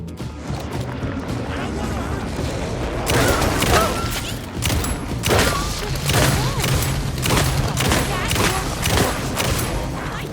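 Gunfire in the video game Alan Wake 2, a run of loud repeated shots and booms over game ambience and low music, with a voice talking in the background.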